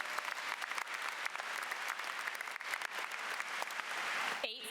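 A graduation audience at James River High School breaks into sustained, even applause, many hands clapping in a dense wash that holds steady for several seconds before cutting off abruptly.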